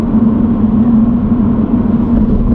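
A 2020 Lotus Evora GT's engine rumbles loud and close, a steady low drone held at an even pitch with no talking over it.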